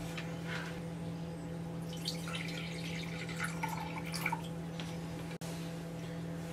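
Water collected by an RV dehumidifier trickles and drips faintly into a measuring cup inside the coach, over a steady low appliance hum, with no talking.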